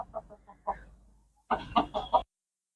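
A chicken clucks in a short series of close, separate calls, with a brief pause, then a denser burst of clucking before silence.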